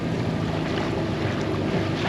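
A boat on the Neretva, a cold, fast mountain river in Mostar, gives a steady close churn of motor and rushing water with wind buffeting the microphone throughout, no voices.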